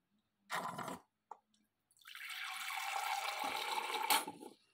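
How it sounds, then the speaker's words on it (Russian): A short splash and a drip, then water pours steadily for a couple of seconds into orchid cups before tapering off. "Наливаю в них водичку."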